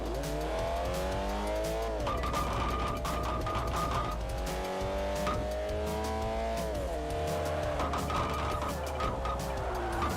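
In Forza Motorsport 4, a car slides through a handbrake turn, its engine revving hard under long, loud, wavering tire squeals that run nearly the whole time.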